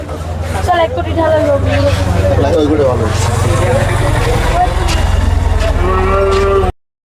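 Cows mooing amid the noisy bustle of the Khulna Joragate cattle market, long low calls rising over crowd babble and nearby talk.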